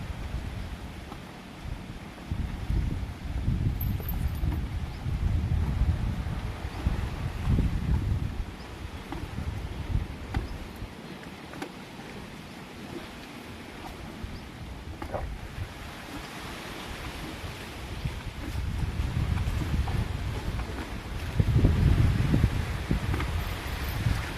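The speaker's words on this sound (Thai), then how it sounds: "ก็มีลมนะครับ" Wind blowing outdoors at a temple, a steady broadband rush with louder gusts swelling and fading across the whole stretch, no voices present.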